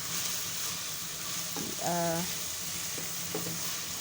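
Omena, small fish, fry for supper in a steady close hiss of oil, with a brief tonal hum cutting in midway.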